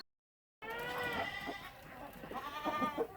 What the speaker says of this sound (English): The goats get to eat first since they will otherwise scream bloody murder.